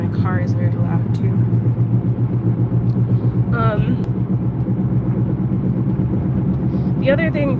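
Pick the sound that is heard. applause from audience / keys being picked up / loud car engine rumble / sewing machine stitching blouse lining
loud car engine rumble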